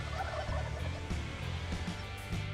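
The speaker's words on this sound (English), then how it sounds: "waiting for that distant gobble." A wild turkey gobbles in bayou country, a rapid rattling call that is clear and prominent with no voices over it.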